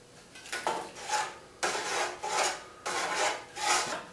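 Black pepper cracked from a mill over a pot of chicken and dumplings, heard as three or four bursts of close, dry gritty rasping, each lasting about a second, separated by short pauses.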